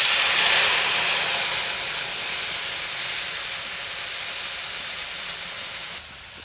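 Mustard water hits hot mustard oil with nigella seeds, setting off a loud, close, steady sizzling hiss that starts strongest and slowly eases off over several seconds.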